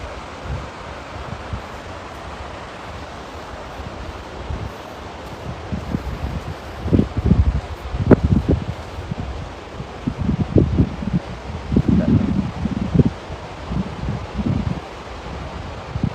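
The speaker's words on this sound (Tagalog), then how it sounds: "Hangin na yung madungog nga nagkaguros karon." Strong wind at the seashore by a river mouth in Digos City buffets the microphone in rough gusts over a steady outdoor roar, with louder bursts in the second half and no talking.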